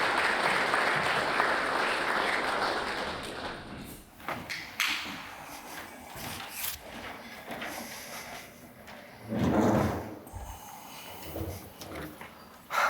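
An audience claps to welcome Ray and Rick onto the stage at a business talk, loud steady applause at first that thins into scattered claps, taps and stage thumps as it dies away.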